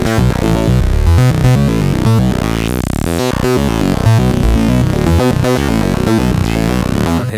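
Analogue Solutions TMF multimode filter module in a Eurorack patch, heard through its high-pass output: a dense, loud, buzzy synth sequence with rhythmic gated notes and bright, thin tones throughout.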